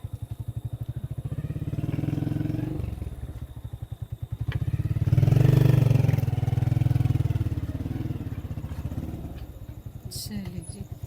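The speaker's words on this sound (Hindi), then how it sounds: "आज तारिक साहब ने मोटरसाइकिल जो है वो बिल्कुल घर के अंदर लेकर आए हैं" A motorcycle is brought inside a mud house in rural Pakistan, its engine idling with a steady throbbing chug that swells and fades, close by, with a few clunks near the end.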